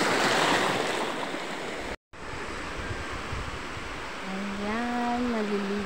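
Sea waves wash onto an island beach in a steady, broad roar, cut by a brief dropout. Near the end, a faint wavering tonal sound rises over the surf.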